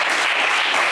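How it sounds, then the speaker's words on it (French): Brief burst of studio audience applause for a contestant named Kassoum on a game show, steady dense clapping, loud and continuous for under a second. "Kassoum, on vous applaudit très fort."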